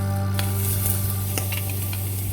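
Garlic hitting a hot pan of oil crackles into a steady close sizzle, with a few sharp spits and stirring clicks, no voices.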